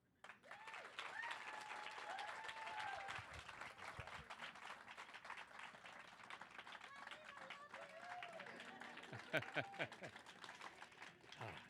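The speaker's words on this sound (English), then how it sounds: "This is the kind of applause that we need." An audience at a Prof Slam talk event applauds steadily, a dense wash of clapping with some cheering voices rising and falling through it.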